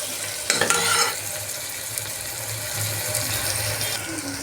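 Eggs fry in oil with ginger garlic paste, turmeric and chilli powder, giving a steady, soft sizzle after a short clatter of stirring near the start.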